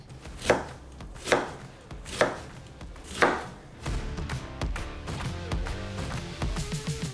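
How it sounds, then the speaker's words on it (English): A knife chops a red onion into small pieces on a board. Four sharp, evenly spaced strikes come first, then a faster run of quieter, rapid chops. The sound is close and clear, with no talking. "Now we're gonna add some of the other half of the red onion we used for the sofrito. Now we're gonna have to actually cut it like a fancy person."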